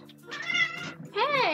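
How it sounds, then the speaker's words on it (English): A house cat meows close by in protest, first one drawn-out complaining yowl, then a second, higher rising meow right after. "Cat protest."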